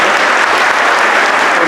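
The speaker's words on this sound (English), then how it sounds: "give him a round of applause, please" At an all-star classic opening ceremony, a large indoor audience applauds steadily and loudly, a dense wash of clapping with no break and no voice over it.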